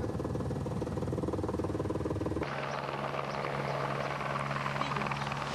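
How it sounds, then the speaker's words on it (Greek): A helicopter's steady rotor drone and engine whine over the Tempi valley fill the scene, loud and continuous, with the pitch shifting midway as it passes. "ελικόπτερο ελέγχει την κίνηση στην κοιλάδα των Τεμπών"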